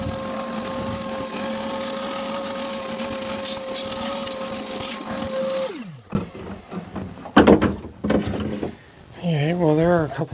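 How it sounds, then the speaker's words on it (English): A shop vac vacuums water out of a Carver boat during restoration, its motor droning steadily for about six seconds before it switches off and winds down, followed by clunks, handling noises and a person talking. "I'll have to go grab the shop vac."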